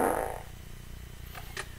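A single short, low fart bursts out at the start and then fades into a quiet background, with a faint trace of voices just after.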